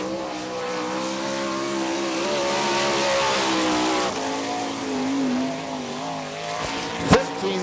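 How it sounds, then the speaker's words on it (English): A winged sprint car runs laps on the Gibsonton, Florida track at the All Star Circuit of Champions Winternationals, its engine a steady, loud, high-pitched drone with shifting revs, ending in a sharp burst. "Now on the track driving the number 7 car."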